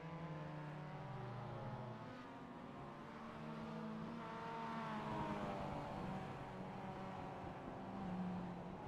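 Mazda MX5 Cup race cars rolling behind the pace car at Tsukuba in iRacing, engines droning and shifting pitch as they rise and fall together, a continuous moderate hum with no voices.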